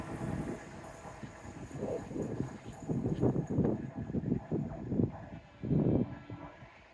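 A train rumbles past close by, its wagons clattering in uneven heavy surges over a constant background of wind noise.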